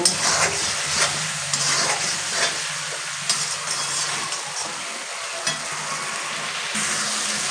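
Egg curry masala sautéing in hot oil, a steady close sizzle and frying hiss with scattered stirring scrapes running throughout, no voices.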